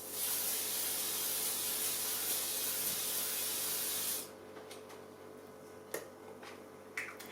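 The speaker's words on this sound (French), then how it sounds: "je me fais un spray" A facial mist sprayer releases one long, steady hiss of fine spray lasting about four seconds, close and fairly loud, then cuts off, leaving a quiet room with a few small clicks and taps.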